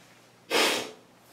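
One short, sharp nasal sniff from someone with a cold, close and loud against a quiet indoor background, swelling and fading within half a second.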